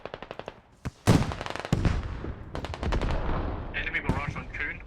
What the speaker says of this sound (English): That hell cannon's still firing relentlessly.